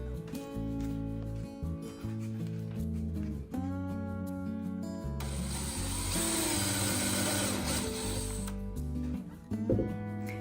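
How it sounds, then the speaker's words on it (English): A power drill whirs steadily for a few seconds, boring a small pilot hole into wood for a screw, with music playing throughout underneath. "drilling a little hole to prevent the wood from cracking when you drive the screw into it"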